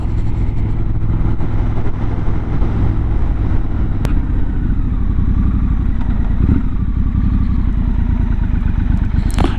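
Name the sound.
Triumph Scrambler 1200 XE motorcycle riding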